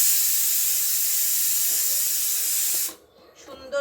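Fish frying in hot oil in a pan, a loud steady broadband sizzle close up that drops away abruptly near the end.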